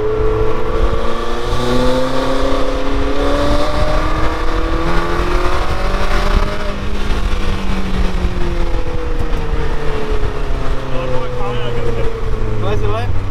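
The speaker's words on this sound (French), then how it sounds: "Moi j'aime beaucoup le bruit de la voiture." Loud, continuous engine roar from sports cars such as a Renault Spider, Lotus and BMW M4, with repeated rising and falling revs as they accelerate and shift; no one talks.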